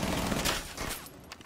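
Gunfire in Rainbow Six Siege: a loud, close burst of rapid shots cracking in quick succession, then thinning into a few scattered reports.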